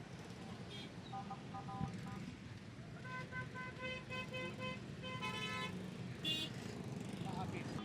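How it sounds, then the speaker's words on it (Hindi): Street traffic rumbles in Karachi along a Red Line bus project route, and several car horns toot in short repeated bursts. A person talks throughout over the traffic. "पीछे देखिए ट्रैफिक।"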